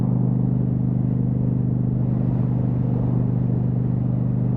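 Steady motorcycle engine running close by with a strong low droning hum and throttle held fairly even, no talking.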